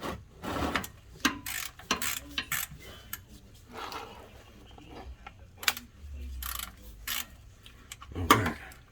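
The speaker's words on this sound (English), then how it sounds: "let's get our wrench and loosen her up some more" A wrench ratchets in short bursts of clicks against the oil filter cap of a Chevy Tahoe V8 Vortec, close and fairly quiet, with scattered metallic handling noises between bursts.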